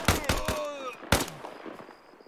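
Gunfire in the military shooter game Arma Reforger: sharp, loud shot bursts in quick succession, with a second volley about a second later and fading echoes afterward.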